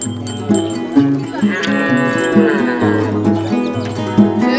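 Cattle low repeatedly at a South Sudan cattle camp, with several deep, drawn-out moos overlapping one another, loud and close, and a busy herd murmur continuing beneath them.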